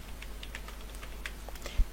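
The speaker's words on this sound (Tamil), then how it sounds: "இப்போ பாருங்கள், திஸ் இஸ் சாம்பிள் இமெயில் அப்படின்னு டைப் பண்ணிட்டேன்." Someone types a sample email on a computer keyboard, producing soft, irregular clicking keystrokes close by over a low hum, with one slightly heavier tap near the end.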